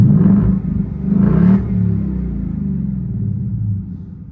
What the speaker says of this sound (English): if I'm going to be revving it, you might as well hear it properly